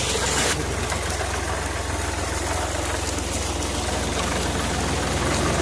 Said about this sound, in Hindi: तो ट्रैक्टर की मदद से ये शाफ्ट के ज़रिए इस बेलने को चलाया जा रहा है।